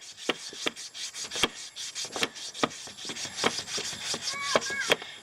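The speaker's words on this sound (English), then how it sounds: "we'll spend a little bit of time getting that a little nicer sanded" A car headlight lens is sanded by hand in irregular rasping strokes, each scrape sharp and close, repeating in quick uneven bursts with a few faint squeaks near the end.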